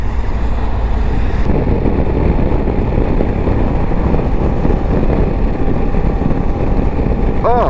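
A 2024 Honda Africa Twin 1100L motorcycle being ridden, its engine a steady close drone under heavy wind rush throughout, with a brief rising whine near the end.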